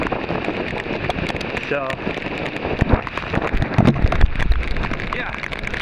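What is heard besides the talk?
rain falling outside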